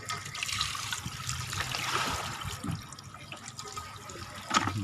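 Water trickles and runs steadily, like a tap left open, with a light splashing hiss and a brief louder gurgle near the end.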